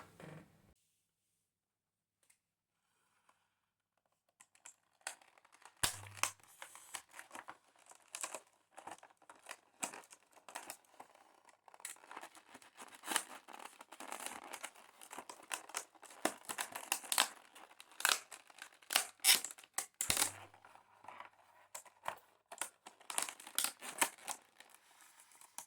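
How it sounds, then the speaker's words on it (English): Hard plastic packaging around a Silvercrest SAT90 activity tracker being cut open, giving a run of close crinkling, crackling and snipping bursts after a quiet start, loud and irregular throughout. "It's this very hard plastic that you will have to cut to get through."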